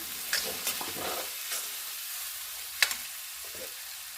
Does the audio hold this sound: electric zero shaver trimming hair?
no